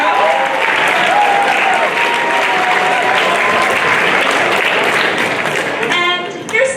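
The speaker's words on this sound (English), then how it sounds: "We give a round of applause for that." A crowd breaks into sustained, dense applause that stays loud throughout, with a few whoops near the end.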